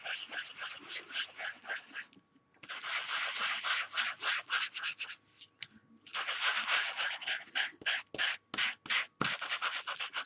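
Sandpaper rubbing across paper in a card-making craft project, bursts of quick, close scratchy strokes separated by short pauses.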